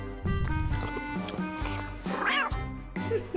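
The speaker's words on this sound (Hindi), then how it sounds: "हाँ, एक बिल्ली है कमरे में।" A cat meows several times in a row, the calls loud and close, rising and falling in pitch, with voices talking in the background.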